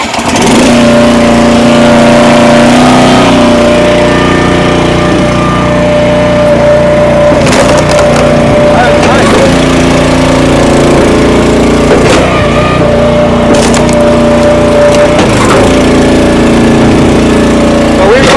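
A wood splitter driven by a 14 horsepower engine runs loud and steady at a firewood expo, the engine droning continuously with periodic strained surges and cracks as logs split, with talk in the background.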